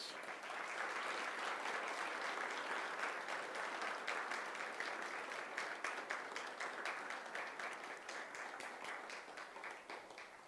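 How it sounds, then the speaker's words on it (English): Sustained applause from a crowd, dense steady clapping that holds for about ten seconds and slowly thins toward the end, with no talking. "can we have a round of applause for his courage?"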